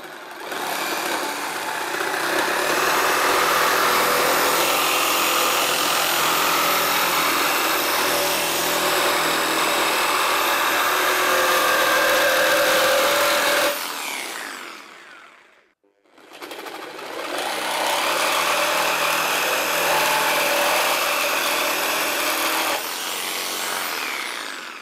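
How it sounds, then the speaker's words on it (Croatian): A Bosch Endurance for Heavy Metal carbide saw blade cuts through metal with a loud, sustained grinding whine that stops briefly for a second or two, then starts again and runs steadily to the end. "ovo je Boschova karbidna testera za sečenje metala, Endurance for Heavy Metal"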